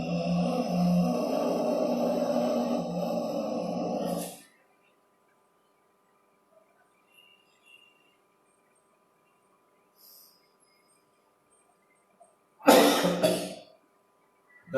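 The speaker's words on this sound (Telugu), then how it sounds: "దగ్గు వస్తుంది" Coughing during a thyroid pranayama breathing exercise shows as a long, rough, forceful exhalation at the start, a near-silent pause, then a short burst of loud coughing near the end.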